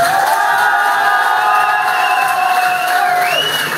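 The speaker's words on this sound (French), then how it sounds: "Je vous demande de leur faire une ovation." An audience at a stage hypnosis show giving an ovation to its volunteers, loud sustained cheering and shouting from a crowd with whoops and long sung-out cries, dense and steady throughout.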